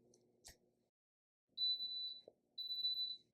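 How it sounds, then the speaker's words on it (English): A sublimation vacuum press signals it has reached temperature with two sustained high electronic beeps, each about half a second long, sounding close and clear after a faint click and a brief knock in an otherwise quiet room. "you can hear that beeping, which means it's up to temperature"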